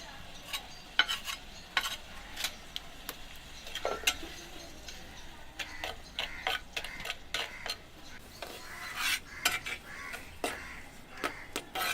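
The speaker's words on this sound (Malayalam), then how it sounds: "ചതച്ച് വെച്ചിരിക്കുന്ന ഇഞ്ചി വെളുത്തുള്ളി ഉള്ളി ഇതെല്ലാം കൂടെ നമ്മളിട്ടൊന്ന് കറിവേപ്പിലയും കൂടെ എല്ലാം ഇട്ടിട്ട് നമ്മളൊന്ന് വഴറ്റുകയാണ്" Crushed ginger, garlic, onion and curry leaves are sautéed in a pan, heard as a quiet sizzle under repeated light, sharp taps and scrapes of a spoon stirring.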